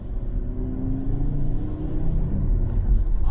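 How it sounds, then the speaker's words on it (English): A 2012 Audi RS3 with a five-cylinder engine rumbles steadily through its exhaust, a loud, deep drone with slight rises in pitch as it revs, heard close and continuous. "Oh man, that exhaust is so sweet"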